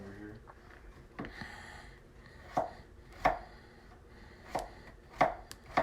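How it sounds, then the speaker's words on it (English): A kitchen knife chopping food on a cutting board during a live cooking demonstration, sharp chops landing irregularly at first and then in a steadier rhythm, close and clear, with faint talking underneath. "It's pretty fun watching me do some chopping over"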